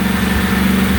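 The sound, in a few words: Briggs & Stratton replacement engine running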